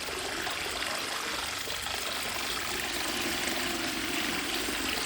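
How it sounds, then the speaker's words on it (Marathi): Water runs steadily from a borewell pipe, a continuous rushing trickle at moderate level with no talk and no break in flow. "बराच वेळ पाणी असंच चाललंय"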